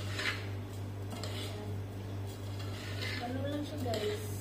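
A spoon scrapes and clinks against a bowl as stuffing with cumin seeds and cumin powder is mixed for stuffed vine leaves, with soft irregular stirring under a steady low hum and occasional quiet talk.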